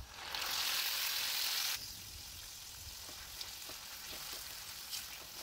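Boiled potato pieces drop into hot oil with a loud, bright sizzle that settles after about two seconds into a softer, steady frying crackle with scattered pops.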